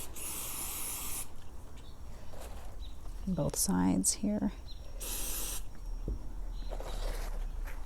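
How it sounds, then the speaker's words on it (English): Apple Guard protector sprays in short hissing bursts onto leather tabs of a Louis Vuitton Vachetta bag, a couple of brief sprays near the start and middle with quieter handling between, and a voice speaks briefly. "I want to spray the leather tabs with this Apple Guard"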